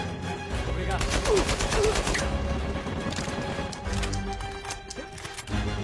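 Gunfire in the video game Uncharted 4, rapid bursts of shots crackling in quick succession, mixed with game noise and a busy background, moderately quiet overall.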